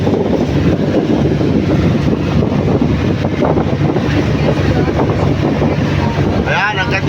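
Cold wind buffets the microphone outdoors with a steady, loud low rumble throughout, and a brief voice-like chirp appears near the end.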